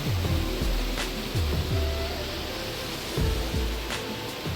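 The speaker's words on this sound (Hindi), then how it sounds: "ऊंचे ऊंचे पहाड़ों से निकलती हुई इस नदी की धारा पर बनते हुए झरनों को देखते हुए" Rushing water from waterfalls on a river flowing down from high mountains, a continuous broadband roar with some lower surges and thuds rising and falling beneath it.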